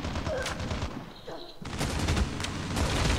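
Rapid bursts of machine gun fire in the Call of Duty Mobile shooter game, a dense, loud rattle that pauses briefly and then resumes in a steady stream of shots.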